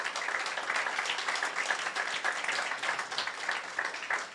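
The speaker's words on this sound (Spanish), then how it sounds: "Dele un aplauso fuerte al Señor." Sustained applause from a large church congregation, steady and loud throughout with dense overlapping claps and no voices.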